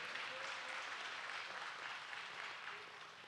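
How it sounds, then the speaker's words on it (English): Audience clapping at a Young Men United high school graduation ceremony, a dense, even wash of applause from a crowd, fairly distant and steady, tapering slightly toward the end. "a round of applause."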